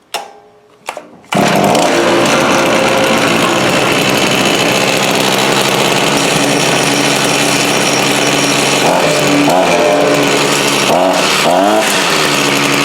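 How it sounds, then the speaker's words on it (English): A Zenoah GZ23N two-stroke engine gives a couple of short pull-cord tugs, then catches and runs loud and steady close by, with its pitch wavering and blipping briefly near the end. "And we'll put the choke on, give it a pull."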